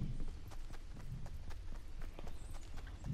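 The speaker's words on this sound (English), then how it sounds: "It was only your own footsteps, eh?" A Fortnite player's own footsteps thud in a quick, regular run, faint and close, with soft rhythmic impacts continuing throughout.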